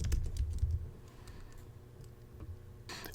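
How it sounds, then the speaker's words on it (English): Quick bursts of key clicks on a computer keyboard as a search is typed, a heavier thump at the start, then a few scattered taps and a final flurry, close and fairly quiet. "Then let's type it into the search."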